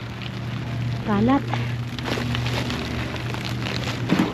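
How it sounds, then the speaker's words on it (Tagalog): Steady rain patters heavily over a low constant hum, with people talking and a brief rising vocal sound partway through. "Malakas na ang ulan."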